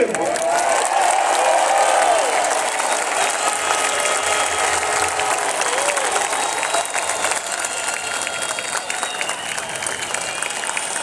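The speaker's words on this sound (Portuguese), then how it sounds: "uma salva de palmas para Elon Musk" A large outdoor rally crowd in Copacabana applauds for Elon Musk, a dense, loud wash of clapping with some cheering that holds steady for about eleven seconds before easing slightly.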